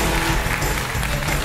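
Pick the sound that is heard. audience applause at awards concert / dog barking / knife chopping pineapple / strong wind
audience applause at awards concert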